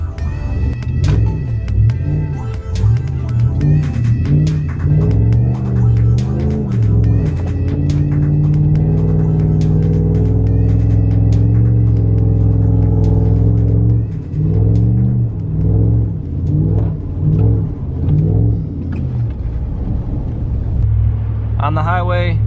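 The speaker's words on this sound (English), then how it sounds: "Glad to see I can drift with another Ram, 4th gen." A 4th-generation Ram pickup truck's engine revs and throbs loudly and steadily while it drifts in snow, holding a deep rumble with rising and falling surges throughout.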